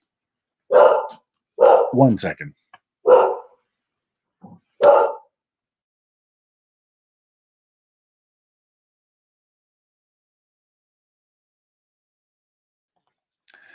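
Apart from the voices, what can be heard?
dogs barking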